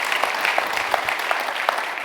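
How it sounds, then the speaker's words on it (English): An audience at a Microsoft summit on sovereign cloud claps in a steady, moderately loud round of applause, a dense patter of many hands with nothing else over it. "So please give him another round of applause, Jeff Wilwinkel."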